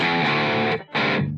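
Electric guitar through a distortion pedal on its lowest gain setting, aggression switch off, playing a sustained chord with rich mild crunch. It cuts out briefly, then rings again.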